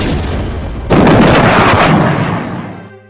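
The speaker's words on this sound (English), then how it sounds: "One town even went so far as to fire off a cannon." A single cannon blast booms out after a short quiet lead-in, loud and broad, then rumbles and decays slowly over about two seconds before cutting off.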